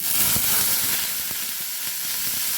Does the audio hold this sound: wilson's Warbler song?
no